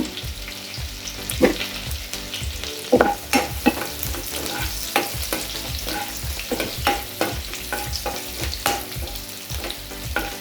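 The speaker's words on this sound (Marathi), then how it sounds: "लसूण छानपैकी फ्राय करून घ्यायचा" Ginger-garlic paste and a bay leaf fry in oil for a spicy Marathi egg curry, with a constant close sizzle broken by repeated sharp clanks and scrapes of a stirring spoon against the pan.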